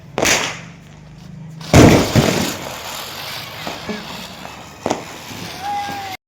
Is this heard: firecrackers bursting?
yes